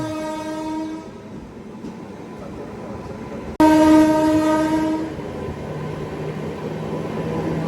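A long Garib Rath express train with ICF coaches, on the Chennai to Vijayawada line, passes close and loud with sustained horn blasts, rail noise and a steady rumble.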